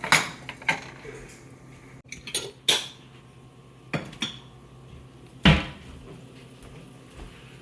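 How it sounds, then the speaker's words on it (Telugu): Coriander seeds go into a pan of dry red chillies: sharp metallic clinks and scrapes of a utensil against the pan come in irregular bursts, loud and close, with quiet pauses between them. "ఎండుమిరపకాయలు కొంచెం అయిన తర్వాత ధనియాలు వేసుకుందాము"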